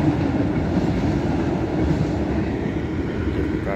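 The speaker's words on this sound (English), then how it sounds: "that is a southbound CSX mixed freight train with the Amtrak switch unit trailing fourth" A southbound CSX mixed freight train with an Amtrak switch unit in the consist passes close by at Boices Lane in Kingston, New York, giving a loud, steady roar of rolling cars with rhythmic clickety-clack throughout.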